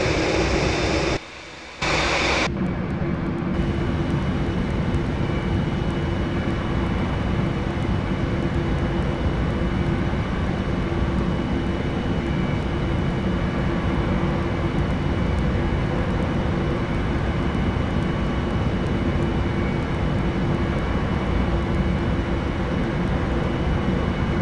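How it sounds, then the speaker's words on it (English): An airliner, Lufthansa flight 2021, takes off in the Prepar3D flight simulator, a loud steady engine roar with a constant whine that holds for the whole stretch after one brief dropout near the start. "Takeoff"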